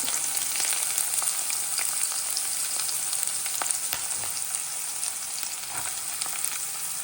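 Green chilies, cumin seeds and chopped onion fry in hot oil, giving a steady, close, loud sizzle with faint crackles and the occasional stir throughout.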